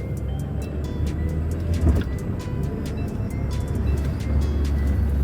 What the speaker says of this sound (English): I think that was a good clip right there of the rocking of the motor there